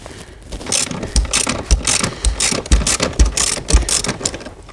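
Ratchet wrench loosening seat bolts on a 2019 Chrysler Pacifica, loud close rhythmic clicking and scraping strokes repeating about once per second, mechanical and sharp.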